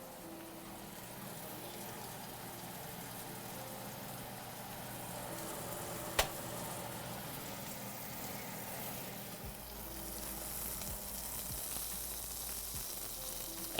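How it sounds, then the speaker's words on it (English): Food frying in a pan while making curry sauce for Danish meatballs, a continuous soft crackling sizzle at low level, with a brief sharp clatter midway and a slight rise in hiss toward the end. "ASMR sizzles."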